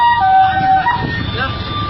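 An ambulance siren wails on a blocked road in Mogadishu, its warbling tones sounding over traffic rumble and murmuring voices.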